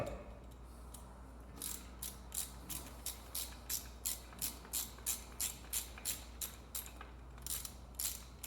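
A ratchet snugs down bolts while a Jeep Wrangler's wheel unit bearings are being replaced, giving a steady run of quiet, evenly spaced clicking pulses, about two per second, with no talk.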